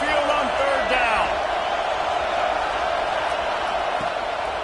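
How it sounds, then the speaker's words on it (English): Alabama Crimson Tide home stadium crowd roaring on third down at Saban Field during a football game, a loud sustained wash of crowd noise with whistles and whoops over the top while an announcer talks. "The Tide crowd rolling noise down onto Saban Field on third down."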